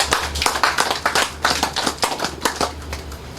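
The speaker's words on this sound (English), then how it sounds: "I want us to give a special round of applause to Caribbean Gold Standard for being here." A small audience at a facility opening gives a brief round of applause, with distinct, fairly close hand claps at an uneven rhythm that thins out toward the end.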